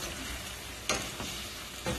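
Ginger and scallions stir-fried with lobster tail noodles in a hot pan, a continuous close sizzle with a few sharper stirring clatters, no voices.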